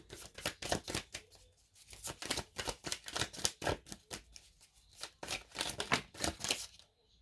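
Tarot cards are shuffled and drawn close up, giving rapid bursts of papery riffling and flicking in an uneven rhythm with short pauses between runs. No one speaks.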